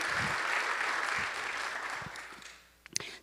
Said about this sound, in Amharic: እስቲ አጨብጭቡ ለኢየሱስ።